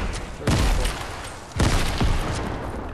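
Two heavy bursts of gunfire from a shooter video game, each a booming volley that lingers into a rumbling tail, loud and close, with a steady game ambience underneath.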